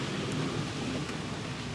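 Steady rainy-season rain pours down at Tiruvannamalai, loud and close, with a low rumble of thunder rolling underneath the constant hiss of falling drops.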